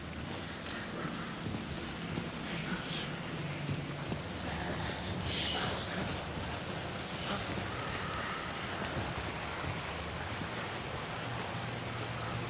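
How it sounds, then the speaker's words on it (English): Steady rain pours in the dark world of the video game Alan Wake 2, a continuous hiss with gusty wind noise and low rumble, fairly loud and unbroken throughout, with no voices. "Ew, it's raining."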